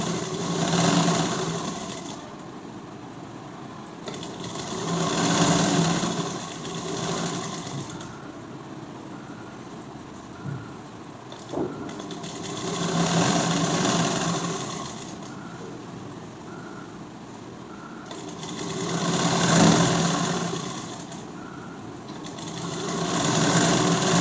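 Sewing machine stitching a blouse lining, running in long steady whirring bursts separated by short pauses, close and clear with no talking.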